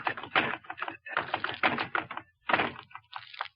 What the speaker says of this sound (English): I was just punching the bag